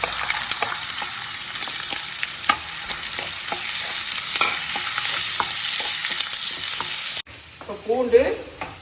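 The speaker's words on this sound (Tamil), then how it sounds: "இப்போ பூண்டு நல்லா வெங்காயம் எல்லாம் நல்லா வதங்கணும்." Small shallots, garlic and a chili sauté in a pan with a bright, steady sizzle and repeated sharp stirring scrapes, then the sound cuts off abruptly near the end.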